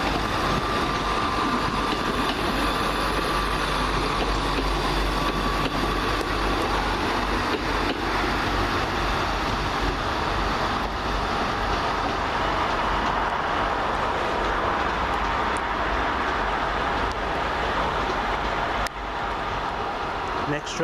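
A Cross-Country passenger train, unit 17113, on the 18:45 service from Cardiff Central to Nottingham, rumbles through a station with a steady, loud broadband roar and low engine drone that holds evenly throughout.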